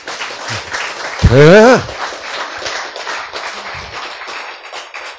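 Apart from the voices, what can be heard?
audience applause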